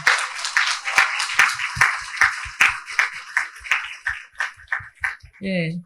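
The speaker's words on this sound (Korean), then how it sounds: "발제자 선생님께 큰 박수 부탁드리겠습니다" A conference audience of village activists applauds a presenter with dense, loud clapping that gradually thins toward the end, where a voice briefly cuts in.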